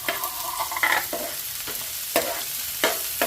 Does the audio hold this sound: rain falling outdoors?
no